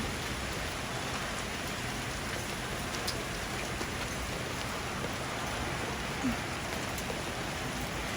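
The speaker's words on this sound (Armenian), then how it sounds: "կարկուտ է և անցրև գնացինք ներս" Heavy rain mixed with hail pours down in a dense, unbroken hiss, steady and loud from start to finish, with faint scattered impacts in the wash and no voices.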